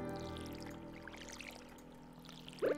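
Watering can pouring water on greenhouse crops in the Stardew Valley farming game, a soft steady trickling pour under game music, ending in a brief brighter splash.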